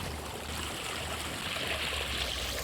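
Water flows steadily along a rice field canal, a continuous close rushing stream with a soft gurgle and no pauses.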